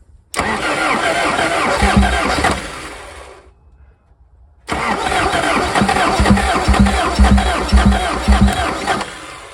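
A 1984 Toyota Van Wagon engine, sitting unused for 25 years, cranks and catches after a spritz of starting fluid, runs loudly up close, dies out briefly, then restarts and keeps running with an uneven, rough idle.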